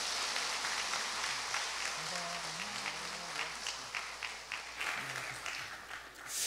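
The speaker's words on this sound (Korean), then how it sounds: "박수하겠습니다." A church congregation applauds after a Sunday service prayer, with soft, fairly distant clapping spread through the hall and a few voices heard underneath.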